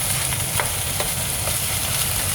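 Vegan crumble keema stir-fries in a wok, a steady, loud, close sizzle with faint scraping strokes of a utensil over it throughout.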